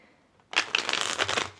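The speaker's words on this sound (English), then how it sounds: "I already shuffled a little bit, but I'm going to shuffle some more for you." A deck of tarot cards is shuffled close up in one quick riffling burst lasting about a second, preceded by near silence.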